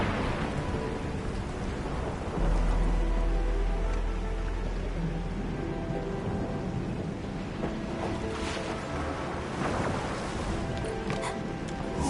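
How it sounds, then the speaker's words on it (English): Heavy rain pours down in the video game Endfield, a loud, steady downpour filling the scene, with a low rumble of thunder rolling in early on and continuing close and unbroken throughout. "It's raining harder. I can't hear anything except for the rain."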